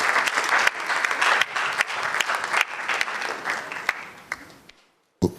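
An audience at a national science and maths quiz opening ceremony claps for a sponsor speaker, a dense sustained round of applause that fades out near the end before a brief final clap.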